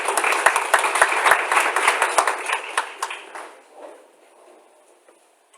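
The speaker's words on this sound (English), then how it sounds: "Let's give them a round of applause." At an annual meeting, an audience claps for volunteers, individual hand claps audible within the crowd's applause, which fades over a few seconds into near silence.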